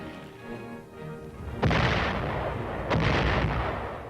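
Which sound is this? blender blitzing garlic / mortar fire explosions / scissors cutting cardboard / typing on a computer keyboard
mortar fire explosions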